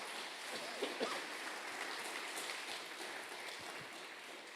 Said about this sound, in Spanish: Denle un aplauso fuerte al Señor